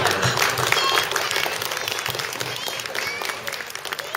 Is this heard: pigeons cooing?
no